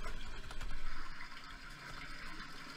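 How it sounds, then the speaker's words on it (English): Steady rushing and gushing of running water in the horror game Cry of Fear, a continuous mid-level wash with a louder swell early on, heard alone without voices. "Where's this water coming from?"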